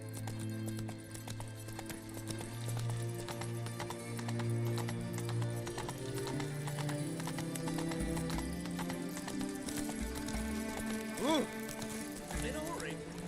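Roach, Geralt's horse in The Witcher 3, gallops with steady, rapid clip-clop hoofbeats, loud and close, accompanied by a whinny near the end and a low game music bed underneath.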